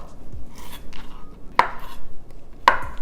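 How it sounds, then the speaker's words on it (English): Knife chopping tofu into cubes on a cutting board, two sharp, close thuds about a second apart with softer handling sounds between them and no voices. "We're gonna start by taking tofu and we're gonna cut it into 8 cubes."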